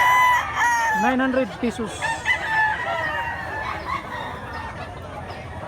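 Roosters at a chicken market in Mantalungon, Cebu, including a black leg bird, crow with a clear rising-and-falling call over scattered clucks, while someone speaks briefly nearby.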